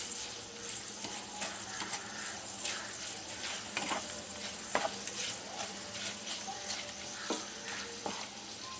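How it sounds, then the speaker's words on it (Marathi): Green peas and a bay leaf fry in hot oil for pulao, making a continuous close sizzle with crisp crackling pops and light stirring clinks throughout, without speech. "हे मटर हे आपल्याला चांगलं 2 मिनिटं फ्राय करायचे आहे"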